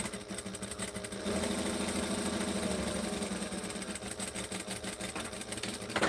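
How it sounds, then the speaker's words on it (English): A sewing machine stitches fabric layers while making leather goods, with a fast, steady mechanical whirring and rattling that runs continuously at moderate volume after a short start. "And we're going to start in the corner, stitch, stitch, back stitch."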